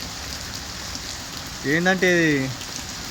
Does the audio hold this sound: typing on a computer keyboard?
no